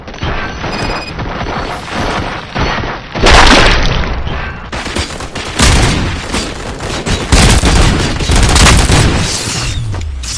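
Gunfire and heavy impacts in the video game RoboCop: Rogue City: loud, dense bursts of shots and booming crashes that keep coming for the whole stretch, with a couple of big blasts standing out.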